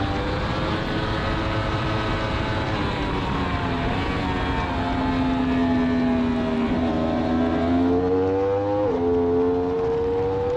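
A racing motorcycle at the Autodrom Most circuit accelerates hard, its engine note climbing steadily through the gears, loud and continuous as heard from the bike itself, with wind roar underneath.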